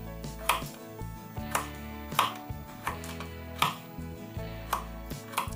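A knife cuts through one whole coconut for pineapple and coconut juice, giving about eight sharp, evenly spaced chops that land close and clear over steady background music.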